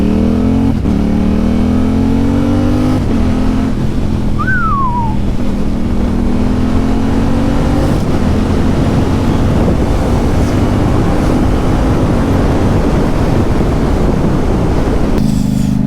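A Yamaha R7 sport motorcycle with a special aftermarket exhaust line rides along, its engine droning steadily and rising in pitch, loud and close under heavy wind rush, with no talk.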